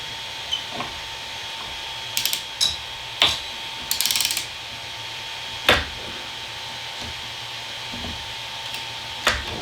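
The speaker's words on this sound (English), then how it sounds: "I was having a hard time getting the socket in there around the wrench." A socket wrench ratchet clicks in short bursts while turning a 3D printer nozzle, with several brief close ratcheting runs and single taps over a steady machine hum.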